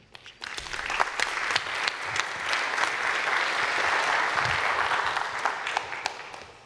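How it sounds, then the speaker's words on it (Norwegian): An audience applauds steadily to welcome an industry executive onstage at a green-transition panel at Arendalsuka, a dense wash of clapping swelling in and holding for several seconds without speech. "Da tar vi og hilser Helge Aasen velkommen med en applaus."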